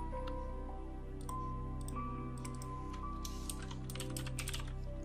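Computer keyboard keys typed in a steady run of crisp clicks during software work, close and clear over a faint background hum, with no one speaking.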